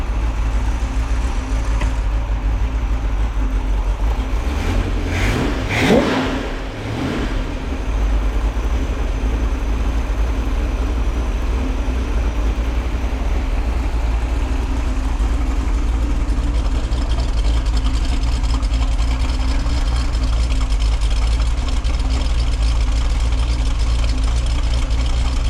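A Pontiac 400 V8 fitted with a Ram Air cam running steadily at idle, a loud, low, continuous rumble with a brief swell of revving early on before settling back into an even, unbroken idle.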